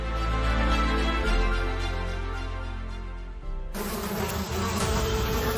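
Dense, steady buzzing of many bees swarming around a hive, loud and continuous without a break and with no voices.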